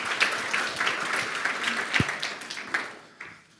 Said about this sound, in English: a round of applause for the excellent presentation